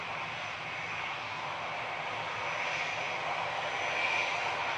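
A Ryanair plane arriving from Dublin, registration 9H-QAB, roars loudly at an airport, its steady jet engine noise swelling slightly over a few seconds with no talk.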